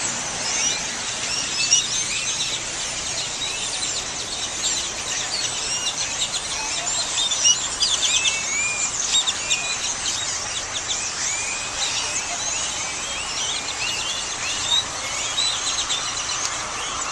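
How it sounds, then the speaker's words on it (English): A large flock of birds chirps and squeals loudly and continuously in a Walmart parking area, a dense, steady chatter of many overlapping calls with no speech. "Look at all those birds, Jules."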